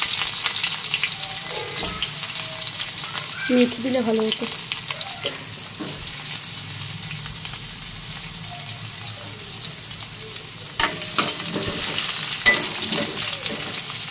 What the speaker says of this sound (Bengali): আমি তেজপাতা, জিরে আর মৌরি ফোড়ন দিয়েছি, আর এখানে একটু তেজপাতা দিয়েছি।